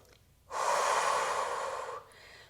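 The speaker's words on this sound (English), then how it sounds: "Breathing through it." One long, forceful breath blown out during an intense full-body pilates workout, close and loud, lasting about a second and a half before fading into a quiet room.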